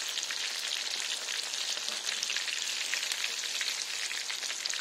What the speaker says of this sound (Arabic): C'est le plus dur dans cette recette, c'est la friture, c'est tout.